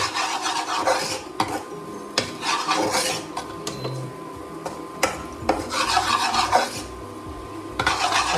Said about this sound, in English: again I am rolling it just to mix that green chilies with potatoes